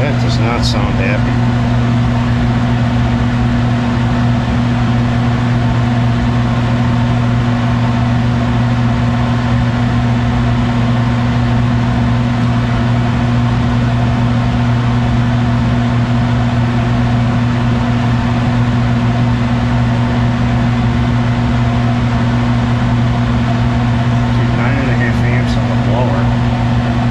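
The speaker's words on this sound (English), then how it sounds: "That motor doesn't sound happy." A failing blower motor in an old Snyder General gas furnace runs with a loud, steady mechanical hum and strong droning tones, rough and unhealthy-sounding, with a few brief clicks near the start and end.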